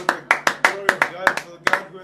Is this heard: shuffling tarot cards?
no